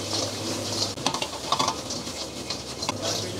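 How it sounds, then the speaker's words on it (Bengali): Loitta fish are tossed in sauce in a cooking pot, giving soft rattling, stirring scrapes and light sizzling in a short, close burst. "তারপর হাঁড়িটা হালকা একটু টস করে নেবেন"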